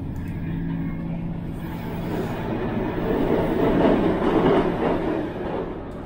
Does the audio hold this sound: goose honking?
no